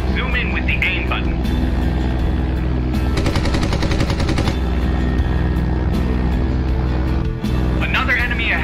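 Fighter plane machine guns fire in a short rapid burst during the Red Wings: American Aces combat flight game, heard over a steady engine drone and game music.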